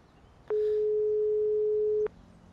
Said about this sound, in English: Can I phone George?